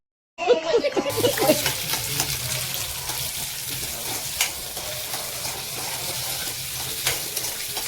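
White sauce with a little oil sizzles and bubbles in a pan while being stirred, a close, steady frying hiss with scraping after a sharp start, running without pause.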